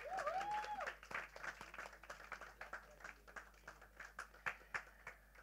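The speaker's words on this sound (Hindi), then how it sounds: "तो मैं सुरेश काला जी के लिए एक बार जोड़ा तालियां चाहूंगा," Applause from an audience at a film success meet on stage, a quiet scatter of separate claps rising to a few louder ones, with a brief voice at the start.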